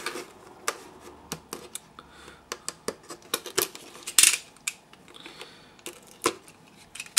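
Sellotape being cut and peeled off sealed packaging on a vintage G1 Transformers Red Alert toy, a series of close, sharp snips, clicks and plastic crackles at an irregular pace, with one brief harsh tearing burst.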